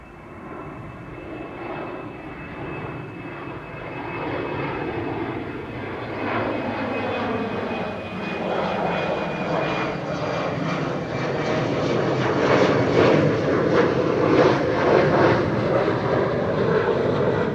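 KLM airliner passing at Amsterdam Schiphol Airport with a steady, building engine roar that grows louder and fuller over many seconds. It is heard alone at moderate distance, with no talk.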